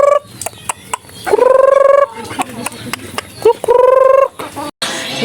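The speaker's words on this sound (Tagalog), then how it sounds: "Ang mga manok." Chickens call loudly and close by, with repeated drawn-out, warbling cries and short clucks broken by brief gaps.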